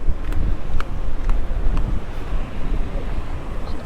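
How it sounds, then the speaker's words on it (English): Strong wind buffeting a microphone on a wide flat sandy beach at Can Pastilla, Mallorca, a loud continuous roar with gusty rumbles and possible surf underneath, no talking. "It's a little bit windy."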